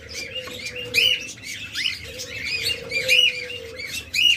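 A breeding pair of cockatiels, yellow-faced pied, calls with repeated squawks and chirps over a constant background hum, fairly close, no talking.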